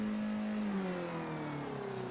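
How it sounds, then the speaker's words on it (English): A Skip Barber race car engine in the iRacing sim bogs down at the start at Silverstone Southern, its steady drone sinking gradually lower in pitch and sounding strained rather than revving freely. "You can hear how much the Skip Barber bogs down on the start, even with Max Revs."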